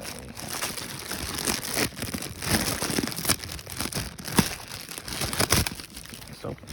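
Close crinkling and tearing of adhesive tape as it is handled while swapping the speakers in a 1999-2003 Chevrolet Silverado Crew Cab LT, with irregular crackles and brief sharp snaps throughout and no talk.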